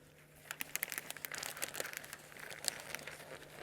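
A paper poster printed with a wood-stove photo is crumpled and waved up and down to mimic flames, giving a faint, continuous crinkling and rustling with quick crackly bursts, alone and without talk.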